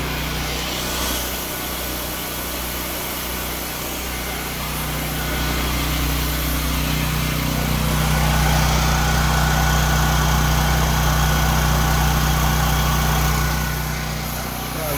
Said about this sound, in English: Air compressor's going now.